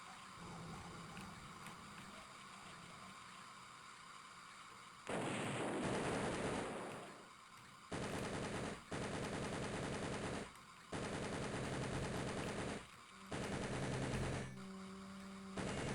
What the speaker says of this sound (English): Maybe I can machine gun the robot.